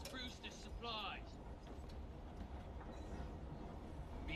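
A steam-era locomotive train in Assassin's Creed Syndicate rumbles along steadily with a low, continuous rolling drone, while brief whistle-like squeals rise early on and game characters talk over it.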